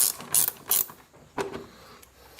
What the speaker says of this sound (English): About a dozen screws you have to get in there and remove.